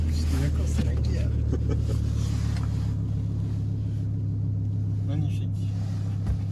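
An Audi R8 race car's engine runs with a deep, steady rumble heard from inside the car, loud and constant, while people talk over it.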